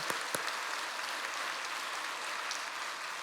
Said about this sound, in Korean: 박수로 영광 돌리기 바랍니다